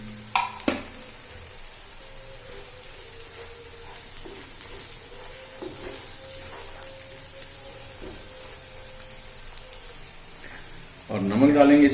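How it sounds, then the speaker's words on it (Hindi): Chopped onions stirred as they fry in a pan for dahi aloo sabzi: a steady, soft rain-like sizzle runs throughout, with faint spoon scrapes and a louder clatter near the end. "प्याज को आपने साथ साथ हिलाते ज़रूर रहना है।"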